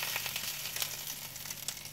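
Meat frying in a pan gives a steady, dense sizzle with small crackling pops, close and fairly loud, with no voices over it.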